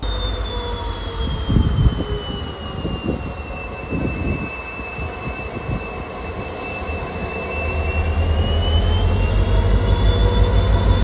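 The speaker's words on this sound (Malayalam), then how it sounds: "തിരുവനന്തപുരം സെക്കന്ദരാബാദ് ശബരി എക്സ്പ്രസ് ആണ് പോകുന്നത്." The Thiruvananthapuram–Secunderabad Sabari Express passes close by on the Ernakulam–Thrissur line in Kerala, its wheels clattering rhythmically over rail joints with a sustained high wheel squeal, the rumble swelling louder toward the end.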